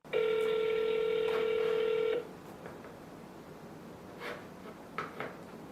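A steady telephone tone sounds for about two seconds before a cold call to an old expired listing, followed by faint clicks and quiet line noise with no talking.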